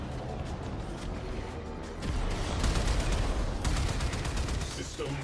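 Video game gunfire rattles through as sustained rapid bursts of shots, moderately loud and continuous, set under a busy mix of game sounds with a voice speaking faintly.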